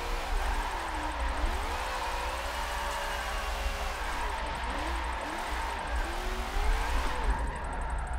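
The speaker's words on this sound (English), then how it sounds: "This car can drift this track without the use of handbrake, with pretty much clutch kicks and left foot braking, as we are doing now." Race car drifting in Forza Motorsport 7 using clutch kicks and left-foot braking, with a steady engine drone whose pitch swoops up and down as revs rise and fall, and a voice talking over it.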